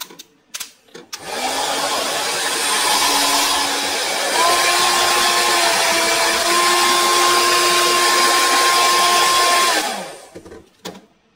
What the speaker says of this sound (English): you'll notice that the sound of the hair dryer when I turn it on is different.